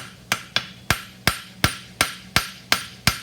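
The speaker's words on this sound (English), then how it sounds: "Then I'm just gonna hold it and come in with the edge of my hammer" A farrier's hammer strikes a horseshoe to feather out its edge for a mushroom trotter shoe, nine sharp ringing metal blows in a steady rhythm, close and loud with no talking.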